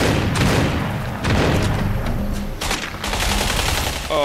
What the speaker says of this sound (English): I like this gun a lot.